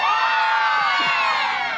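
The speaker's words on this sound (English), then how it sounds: "Now, when I call out your grade name, I'm going to have a big cheer." A group of schoolchildren cheers loudly at an assembly, a dense, sustained burst of high shouting and whooping voices that fills the whole moment.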